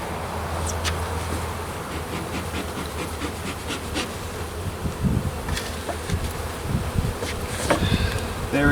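Honey bees buzz steadily during a hive inspection, a dense close hum with occasional louder passes and light handling noises.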